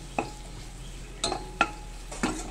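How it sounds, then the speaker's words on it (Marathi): Masala of garlic and ginger being sautéed in a pan for kadhi pakora, with four distinct spoon-stirring scrapes against the pan over a faint steady sizzle. "अशा प्रकारे मी आता हा मसाला छानपैकी परतून घेणार आहे"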